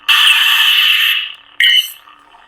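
KR Sabers Regiis Neopixel lightsaber on a Proffie v3 board plays a sound-font effect: a loud, bright, buzzy electronic tone lasting just over a second, then a shorter second burst that quickly trails off.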